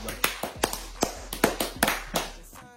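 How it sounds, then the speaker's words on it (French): A few people in a small group clap at a French chat, giving scattered, uneven claps over about three seconds, close and moderately loud, with voices mixed in. "On peut les applaudir en plus."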